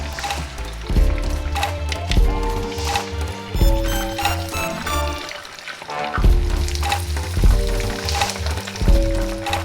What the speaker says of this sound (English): Then I just drop them in the deep fryer, 350 degrees.